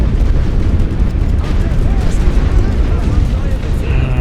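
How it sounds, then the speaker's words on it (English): Heavy artillery fire and explosions rumble continuously in The Great War: Western Front, a dense, loud low roar of distant blasts with faint higher crackles on top. "Now they're sending artillery at me"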